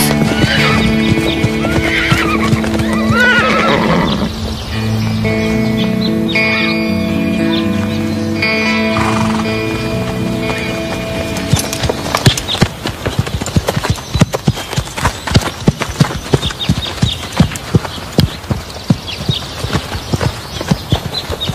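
A horse whinnies loudly in a long, wavering neigh, then hooves trot in a quick, steady rhythm, close and prominent.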